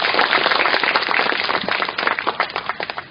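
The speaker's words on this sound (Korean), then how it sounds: "박남호 회장님께 우리 큰 박수 한번 쳐주시기 바랍니다" A crowd at a memorial ceremony for President Park Chung-hee applauding for chairman Park Nam-ho, loud sustained clapping that thins toward the end into scattered individual claps.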